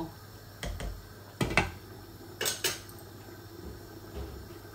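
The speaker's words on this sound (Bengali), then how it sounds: "এটা বহুত বড় একটা কড়াই" A metal utensil clanks against a very large karahi while chicken is cooked with satkora citrus, giving several sharp clinks in pairs and separated by short pauses, in an otherwise quiet kitchen.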